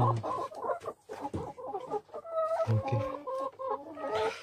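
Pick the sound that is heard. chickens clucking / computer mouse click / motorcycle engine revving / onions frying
chickens clucking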